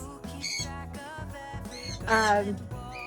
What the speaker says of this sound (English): The birds are singing so obnoxious.